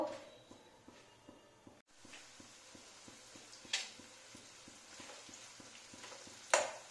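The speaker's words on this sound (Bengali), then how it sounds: "তেল গরম হয়ে এসছে, এবার আমি পেঁয়াজ ছাড়বো।" Onions dropped into hot oil for chowmein, a quiet sizzle that starts after a brief pause, over a steady faint ticking and a couple of sharp clinks.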